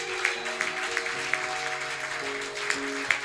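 Church congregation applauding during a sermon, steady soft clapping from many hands with a few sharper claps, under sustained organ or keyboard chords.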